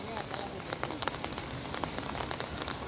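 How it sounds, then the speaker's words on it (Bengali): Steady rain falls under a dark sky, a dense even patter of drops on surfaces with scattered sharper taps, close and continuous throughout. "বৃষ্টি ঘুরি ঘুরি বৃষ্টি পড়ছে"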